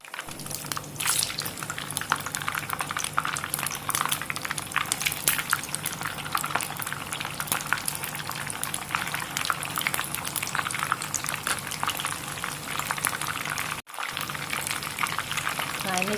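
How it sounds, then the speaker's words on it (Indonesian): Oil sizzles and crackles continuously in a pan frying frozen keto food not dipped in egg, a dense steady frying hiss close up, with a brief cut near the end. "Jadi ini langsung saya goreng aja pakai minyak."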